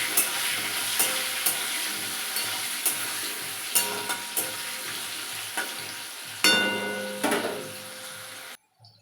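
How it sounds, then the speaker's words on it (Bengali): Potatoes sizzle and fry in a pan with turmeric and salt while a spoon stirs them, producing a steady crackling hiss punctuated by repeated sharp scraping knocks, ending abruptly. "এবার আলুটা আমি ভেজে নিচ্ছি।"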